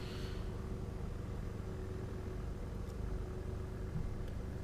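Faint, steady engine drone from a 2004 Ferrari Enzo running, a low continuous hum with a thin tonal whine, quiet and distant-sounding, with no talking.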